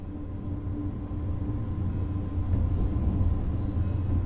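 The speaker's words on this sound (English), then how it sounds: "This particular train is a third-generation intercity express built by Siemens in Germany for international operations." A Siemens third-generation intercity express train in the Train Sim World 2 game runs with a low, continuous rolling rumble and faint wheel noise that swells slightly partway through.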